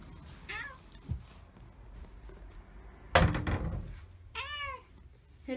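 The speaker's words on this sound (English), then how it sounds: "I can hear you meowing." A house cat meows twice, with short rising and falling calls close by, around a heavy thunk in the middle and a soft earlier knock, in a quiet room where a cat sitter is visiting.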